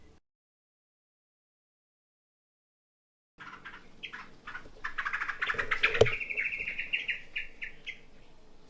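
Bulbul birds chirp in a front yard, starting after a few seconds of silence and building into close, busy tweets and a sustained whistled call over a faint background.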